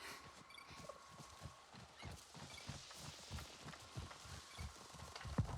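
A pony's hooves clip-clop steadily in the Avatar video game, a rhythmic run of hoof falls with faint whinny-like sounds, moderately close, with no voices.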